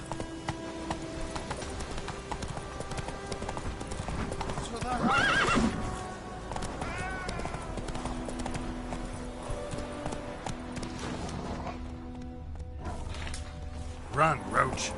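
Roach, a horse in The Witcher 3, gallops with steady clip-clop hoofbeats and a neigh around the middle, joined by creaking mechanical sounds, with a voice present throughout.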